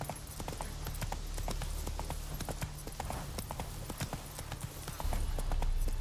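Hooves of Roach, the horse in The Witcher 3, clip-clopping at a steady trotting rhythm, close and fairly quiet over a low background rumble.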